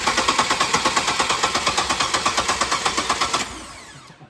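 An engine being started after repair cranks in a fast, even train of sharp mechanical pulses for about three seconds, then cuts off and fades into quiet.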